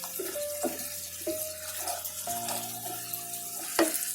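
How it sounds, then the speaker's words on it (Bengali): Prawn kofta balls are stirred in a pan after the lid comes off, with soft scraping and light knocks against the pan recurring every second or so over a low sizzle, close and fairly quiet. "এখন আমি ঢাকনা খুলে একটু নেড়ে চেড়ে দিব"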